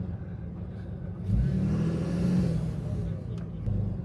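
Box truck with a 5.9 Cummins diesel engine revving its exhaust, a deep low rumble that surges louder midway and holds before easing, heard outdoors in Alaska with voices nearby.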